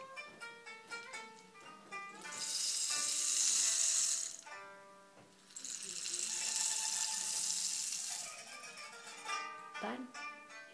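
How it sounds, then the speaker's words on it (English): A river running by is rendered as a rushing, hissing flow of water in two long swells that rise and fade, blended with sustained tonal instrument notes in a musical storytelling setting. "it was only the sound of water, of a river running by"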